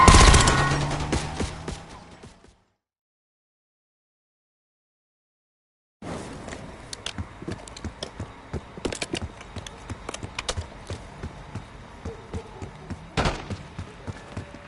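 Video game shootout on a street: a loud opening burst of gunfire fades out, then after a few seconds of silence a steady run of scattered shots and impacts continues at moderate level, with one sharp louder crack near the end.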